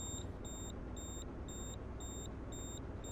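Repeated electronic beeping from a truck in the video game Hard Truck 2, six evenly spaced high beeps about half a second apart over a steady low engine rumble.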